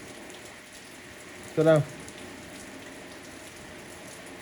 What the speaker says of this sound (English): Oh, it's raining out here, girl.